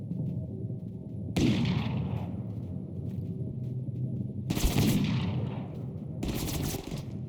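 Gunfire in Totally Accurate Battlegrounds: three sharp bursts of shots ring out against a steady low game rumble, each loud volley decaying quickly, spaced a few seconds apart.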